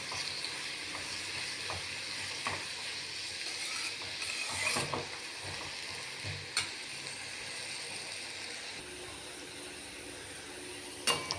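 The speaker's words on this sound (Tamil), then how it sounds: "இந்த எண்ணெயில் இந்த பூண்டும் பிரண்டையும் நல்லா பொரியிற அளவுக்கு, நல்லா மெரூன் சைடு வர அளவுக்கு நம்ம நல்லா வதக்கி" Garlic and adamant creeper fry in hot oil with a steady, dense sizzle, broken now and then by faint scraping and clinking of a ladle against the pan.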